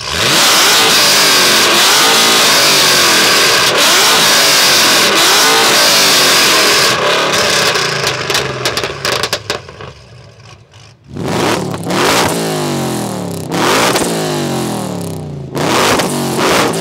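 800HP HSV R8 GTS and 800HP Ford Mustang GT V8 engines revving hard, a loud, roaring blare of repeated throttle blips and rising howls, close by, then sharper staccato revs with gaps later on.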